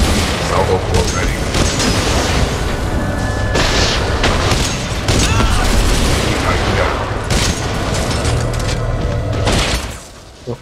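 A weapon salvo firing in a video game, a loud rolling series of booms and rapid bursts layered over a constant rumble for about ten seconds before cutting off, with one last pop at the end.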